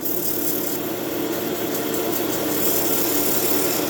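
Sandpaper rubs against an oak newel post cap spinning on a wood lathe, a steady, close whirring hiss of the turning motor and abrasive contact that holds even and unbroken throughout.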